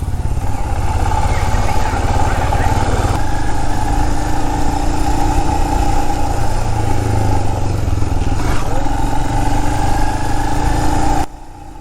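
A Royal Enfield Himalayan 411 single-cylinder motorcycle engine thrums steadily at close range while riding through a city, a constant chugging drone with traffic noise around it, cutting off near the end.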